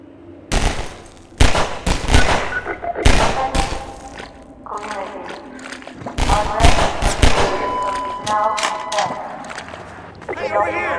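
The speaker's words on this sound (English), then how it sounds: "The turret firing at the breakable crates behind teaches players not to take the threat head-on" Mounted turret gun in Half-Life 2 firing at breakable crates, with sharp loud bursts of gunfire and crashing, clattering impacts. The fire comes in irregular clusters, with a voice heard faintly between shots.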